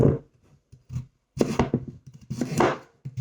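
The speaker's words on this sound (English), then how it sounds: "I'm just chopping these into like a little bit smaller pieces so they can cook faster" A knife chops carrots and sweet potato on a cutting board at close range, with short clusters of sharp, quick taps separated by pauses, and no talking.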